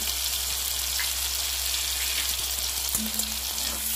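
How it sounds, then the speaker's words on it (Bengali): Prawns frying in hot oil with turmeric and salt give a steady, dense sizzle that holds evenly throughout at close range over a low background hum, with a faint clink near the end and no voices. "চিংড়ি মাছগুলো ভেজে নিচ্ছি"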